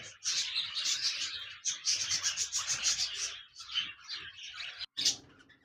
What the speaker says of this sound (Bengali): এখানে দেখতে পাচ্ছেন এক জোড়া লুটিনো রেটায় বাজরিগার পাখি রয়েছে